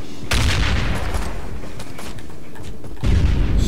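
Gunfire in the video game Ride to Hell: Retribution, a dense sustained barrage of loud shots and booms that briefly thins, then swells again near the end.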